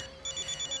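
Telephone ringing in a Hindi-dubbed film scene, a short burst of rapid repeated electronic trilling pulses, fairly clear over a quiet background.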